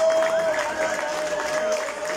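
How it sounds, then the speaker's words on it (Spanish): Crowd applause at a political committee swearing-in ceremony, moderately loud and continuous, with a sustained tone and scattered voices over it. "Eso, el aplauso, que se escuche el aplauso."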